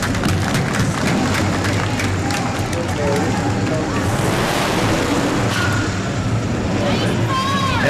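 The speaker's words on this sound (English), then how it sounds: "Let's give him a round of applause." Outdoor crowd applause and cheering at a small-town Sauerkraut Days car cruise in Minnesota, as a 1967 Chevelle SS rolls by; steady broadband clapping and crowd noise with engine rumble underneath and a man announcing over a PA.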